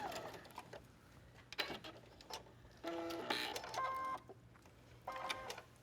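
A sewing machine stitches a narrow 1/8-inch hem in silk in short quiet bursts, whirring briefly, pausing, then whirring again, close but faint.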